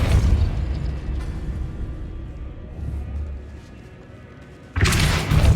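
A Depulso spell cast in Hogwarts Legacy: a loud burst and boom at the start, a low rumbling mechanical aftermath that fades, then another sharp blast near the end, with no voices.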